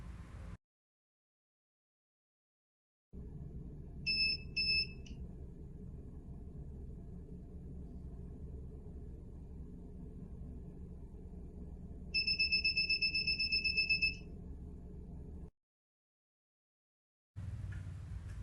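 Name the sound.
IoT home security buzzer sounding 8 times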